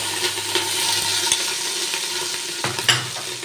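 Two spoonfuls of butter melt in a pot, sizzling and crackling steadily and close up, with a spoon scraping and stirring through it in irregular strokes.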